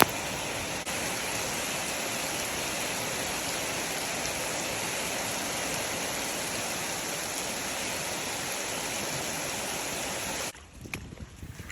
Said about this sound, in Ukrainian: дощ все припускає, просто стіною стоїть